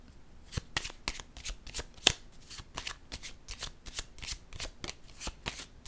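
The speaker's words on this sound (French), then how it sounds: "Je vais déposer une autre carte." Tarot cards shuffled and laid down in a close, quiet room, with a rapid series of crisp flicks and soft slaps that repeat steadily, plus one sharper snap partway through; no one talks.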